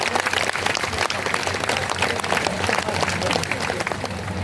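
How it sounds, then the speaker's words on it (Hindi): Steady, dense applause from a crowd at a religious annual general meeting, continuous and fairly loud throughout with no pauses. "तालियां बजाइए माताएं।"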